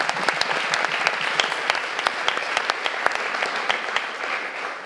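An audience at a student and business evening claps steadily for several seconds, a dense spread of individual hand claps with sharper ones standing out, fairly distant and without talking.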